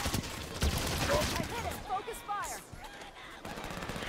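Dense video game gunfire from Halo 5, a rapid fusillade of shots over a busy battle mix, with a person talking over it.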